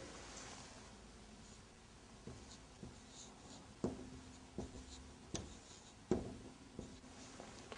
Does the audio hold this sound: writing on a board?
yes